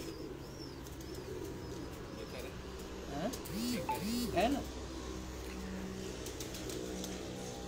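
Pigeons coo on a rooftop, a few soft rolling calls near the middle, under a voice with faint traffic in the background.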